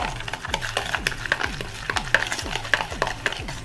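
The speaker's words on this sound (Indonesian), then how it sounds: "Kita aduk." A spoon stirs a seasoning mixture of tomato sauce, stock, chili powder and salt for a mini omelette sauce, making rhythmic repeated clinks and scrapes against the bowl, close and steady with no talking.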